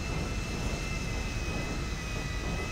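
An airliner taking off from the main runway in GTA V, a loud, continuous, steady jet engine roar with a faint high whine over it and no speech.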